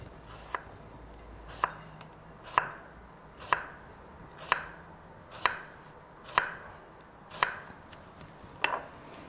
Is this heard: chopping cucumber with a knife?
yes